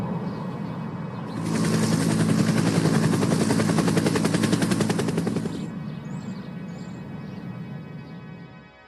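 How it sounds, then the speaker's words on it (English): A police helicopter's rotor chops loudly overhead in a rapid, steady beat that swells in for a few seconds and then fades, with a low engine hum beneath. "you're getting in the police helicopter now too"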